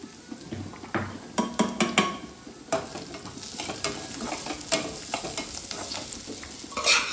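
A spoon scrapes and turns cooked rice in a pan for lemon rice, making a busy run of close, rhythmic stirring scrapes and light clinks over a faint frying sizzle, with no talking.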